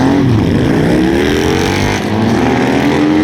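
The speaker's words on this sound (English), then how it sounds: "Harley lowrider in the lane." Harley-Davidson Low Rider motorcycle at a drag racing bike night, its engine droning loud and close with a rising, accelerating pitch that suggests a launch down the lane.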